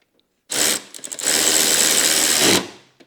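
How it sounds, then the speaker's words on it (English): A powered ratchet tightens a bolt on a hitch being fitted to a 2018 or later Honda Gold Wing motorcycle, giving a loud, close buzzing whir in a short burst and then a longer continuous run of about two seconds. "So all I'm gonna do now is just get my ratchet and tighten this bad boy down."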